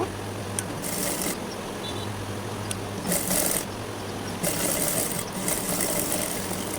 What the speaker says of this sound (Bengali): তো এই যেরকম তেসরাভাবে আবার সেলাইটি দিয়ে দিচ্ছি